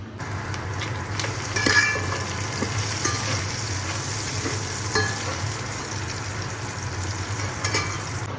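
Khichuri of rice and lentils cooks and sizzles steadily in a pot, with a close, continuous bubbling hiss, occasional stirring scrapes and a low hum underneath, and no talking.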